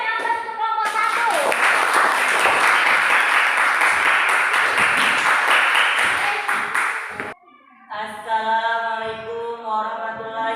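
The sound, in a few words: applause for group one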